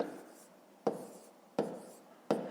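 Pen or pencil writing numbers on paper for long division, three sharp taps each trailing into a soft scratchy stroke, close and quiet.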